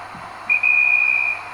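A guard's whistle sound effect plays from a Roco S160 model steam locomotive: one shrill, steady high-pitched tone lasting under a second, close and fairly loud over a faint electronic hum.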